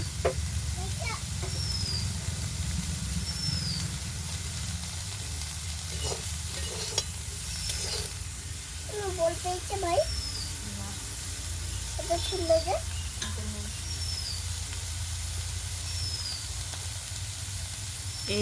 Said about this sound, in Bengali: কপিটাও আমি হালকা ভাজবো খুব একদম লাল করে ভাজবো না